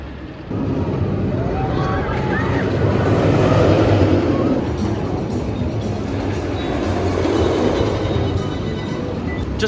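Wildcat's Revenge, a roller coaster at Hersheypark, runs during a ride, a sustained rumbling roar of wheels on track with rising and falling rattles and distant rider shouts, heard close and loud throughout.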